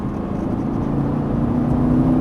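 A Lamborghini Gallardo engine whirs steadily on a track under hard braking, a smooth mid-pitched drone rising slightly in level over a couple of seconds, no talk.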